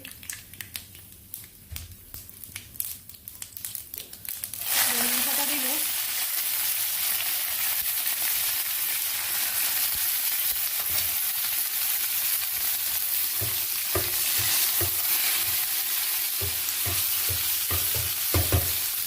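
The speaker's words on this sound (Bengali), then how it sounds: "এখানে আমি সরিষার দানা দিয়েছি" Mustard seeds fry in hot oil with a loud, steady sizzle that bursts in after a quieter stretch, crackling and popping continuously with occasional stirring.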